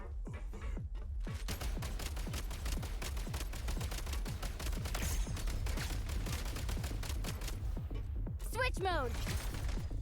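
Rapid firearm gunfire in Genshin Impact, a long run of sharp, evenly spaced shots that fire almost continuously at close range, loud throughout, ending in a brief whooshing, chiming effect near the end.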